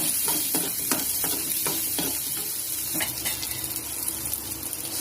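Shallots, garlic and tamarind sauté in a pan for a spicy small-onion chutney, a constant close sizzle broken by rhythmic scraping strokes of a stirring spoon.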